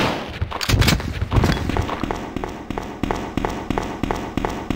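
Repeated shotgun blasts from Leon's weapon in Resident Evil 2 on PC, loud and punchy, firing in a steady spaced rhythm with sharp thuds and clatter between shots, close and dominant with no talk.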